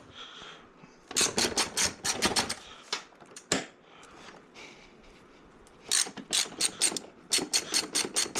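A ratchet wrench removes brace bars from a BMW M550 engine bay, giving quick close clicking bursts in separate runs with short pauses between them.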